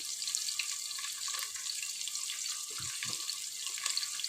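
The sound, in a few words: onions frying in a pan for vegetable biryani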